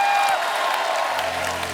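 A studio audience on a Hindi TV comedy show applauds to welcome a singer: dense, steady clapping that fills the short clip at a loud, even level.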